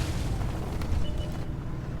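A deep, rumbling tank cannon blast from the Object 277 in World of Tanks, heavy low-end boom that rolls on steadily with no voices over it.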